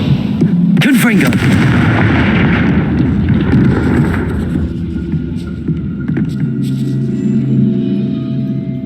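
A Confringo fire spell detonates in Hogwarts Legacy while storming a gatehouse, a sharp blast near the start followed by a deep, rumbling hum that trails off across the scene.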